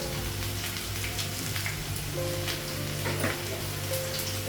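Oil heats in a pan for a soybean and potato curry, giving a steady, close sizzling hiss throughout with a faint tonal hum underneath.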